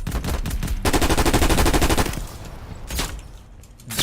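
A Galil rifle fires in Call of Duty Warzone in a long fast automatic burst lasting about two seconds, followed after a lull by one more sharp report, close and loud.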